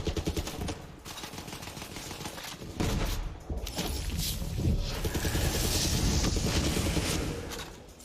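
Legendary gun in Borderlands 3 fires in sustained, dense bursts of loud video-game gunfire, with rapid repeated shots and impacts filling the whole stretch and a brief dip near the middle.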